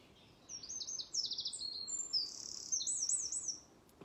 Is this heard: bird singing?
yes